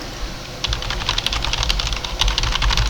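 Rapid clattering keystrokes on a computer keyboard, dense irregular tapping close and fairly loud, starting after a quiet moment and continuing steadily without speech.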